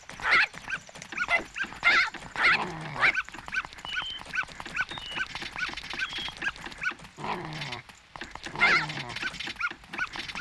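Dog in the video game The Legend of Zelda: Majora's Mask 3D, barking, yipping and whimpering in repeated short bursts, fairly close, with a faint voice underneath at times.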